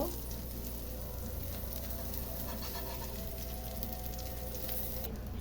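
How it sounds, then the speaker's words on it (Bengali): An egg fries in oil on a hot tawa griddle with a steady, faint, crackling sizzle that runs evenly throughout. "আমার তাওয়াটা গরম হয়ে গেছে, এখন আমি ডিম দিয়ে দিব।"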